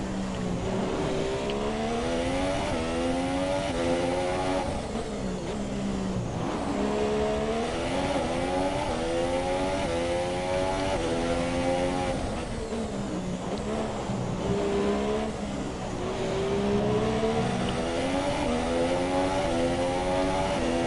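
A Formula 1 car engine in the F1 2017 racing game screams continuously, its pitch climbing and dropping through gear shifts and braking into turns, loud and close.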